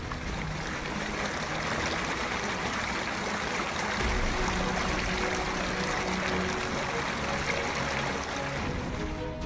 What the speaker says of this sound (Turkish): gürül gürül akan dereler